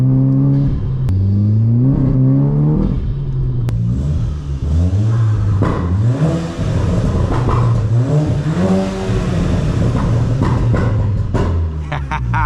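A Volkswagen Polo GTI with its exhaust opened up revs repeatedly, loud and close, the engine note climbing and falling in several throttle blips over a steady idle, with a voice talking at points.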